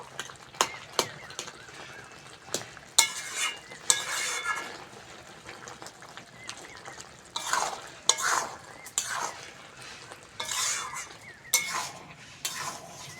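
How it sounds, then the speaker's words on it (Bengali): Boiled potatoes stirred and mashed in a pan while cooking loitta shutki bhuna, a spatula scraping and knocking against metal in irregular bursts with a soft background sizzle, close and moderately loud with no talk. "আলু সিদ্ধ হয়ে গেছে একটু আলুগুলো ঘেটে ঘেটে দেবো"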